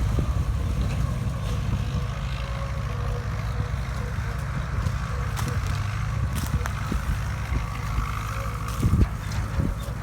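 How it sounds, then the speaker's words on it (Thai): A Bell three-wheel sugarcane loader works in a cane field, loading cane into a ten-wheel trailer truck; a steady loud diesel engine drone fills the scene with scattered clanks and a brief louder knock near the end. "พาทุกคนมาดูบรรยากาศการคีบอ้อย รถสามล้อนะ ขึ้นสิบล้อพ่วง"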